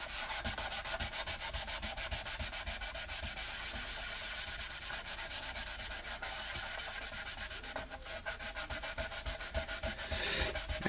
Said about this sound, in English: after you sand it a little bit, you got a lot of grit and gunk which you got to clean off